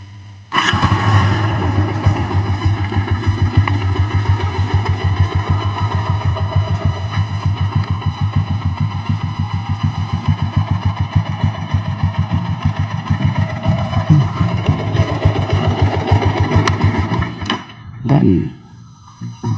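An older Yamaha MX motorcycle fitted with an aftermarket alarm starts with the key and settles into a loud, steady, throbbing idle that runs for many seconds before being shut off.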